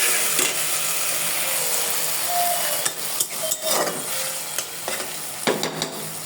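Potatoes and spices are stirred and fried in a pan, a loud steady sizzle broken by repeated scraping spoon strokes and light knocks against the metal, close and continuous.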